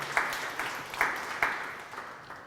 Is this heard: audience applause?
yes